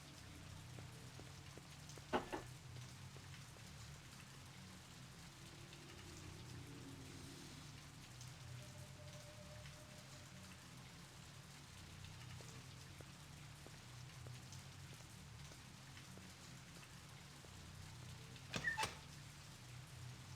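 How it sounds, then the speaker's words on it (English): Steady pouring rain in the Blade Runner adventure game, a constant soft hiss on surfaces at low level with two brief louder knocks, no voices. "Pouring rain."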